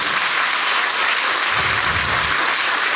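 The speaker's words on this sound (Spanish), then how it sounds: "Dele ese fuerte aplauso al Señor." Loud, steady applause from an audience at a spiritual retreat in Tiltepec, Nopala, a dense crowd clapping continuously for a few seconds with no pause.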